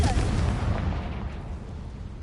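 A Confringo fire spell bursts in Hogwarts Legacy, a loud explosive blast that decays into a rumbling, fading tail over a couple of seconds.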